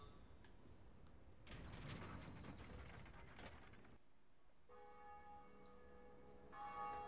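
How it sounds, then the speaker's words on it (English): A bell tolls in Dark Souls Remastered amid creaking gear-like mechanical clanks, followed by a steadier ringing tone near the end, all fairly faint and without talk. "There's the bell, except this time it was something else."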